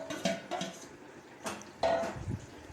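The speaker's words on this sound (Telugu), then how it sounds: "ఇది వేసి బాగా కలపాలి." A spoon clinks against a pan as spice tempering with coriander powder and asafoetida is stirred for a masala dosa potato filling, giving a few sharp, irregular metallic knocks at close range.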